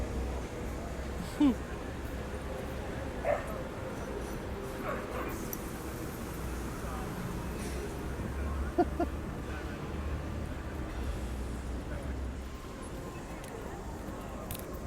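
Dogs bark and yip in Madison Square Park's dog run, with a few sharp, brief yelps standing out over steady outdoor city noise and distant voices, the animals at a moderate distance.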